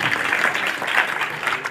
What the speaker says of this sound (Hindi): जोरदार तालियों के साथ स्वागत करेंगे आप लोग।